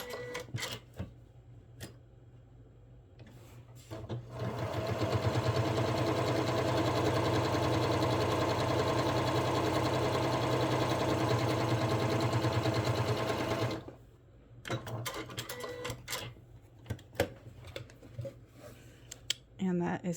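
A sewing machine runs steadily for about nine seconds while top stitching the fabric of a notebook cover close to a folded edge, a loud continuous whirring drone, with quieter handling clicks before and after.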